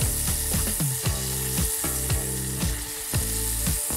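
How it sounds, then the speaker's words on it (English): Butter sizzles loudly in a small saucepan over medium-high heat, a dense steady crackle with regular knocking thumps throughout. "we're going to melt it in a small saucepan over medium-high heat"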